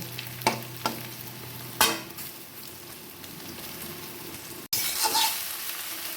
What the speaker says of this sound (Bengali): এই পিঠটাও খুব ভালো করে ভেজে নেব